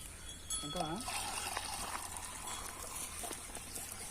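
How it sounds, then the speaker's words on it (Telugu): Water mixed with cow dung poured into a 3 HP three-phase monoblock motor pump, a steady trickling, splashing flow running throughout at moderate level, with a person speaking briefly over it. "పేడ నీళ్ళు కలిపి పోస్తున్నారు."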